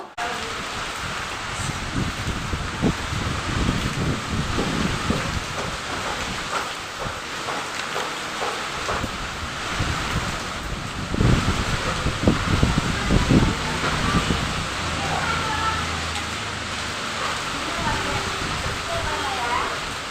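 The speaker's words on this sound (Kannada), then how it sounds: "ನೋಡಿ ಜೋರು ಗಾಳಿ ಮಳೆ ಬರ್ತಾ ಇತ್ತು" Monsoon rain and strong gusting wind roar continuously, with rustling and rushing washes of noise rising and falling, steady and fairly loud.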